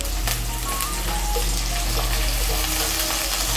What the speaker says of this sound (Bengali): হলুদের গুঁড়ো আর লঙ্কার গুঁড়োটাকে ভালো করে মিশিয়ে নেব।